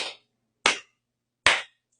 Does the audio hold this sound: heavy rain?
no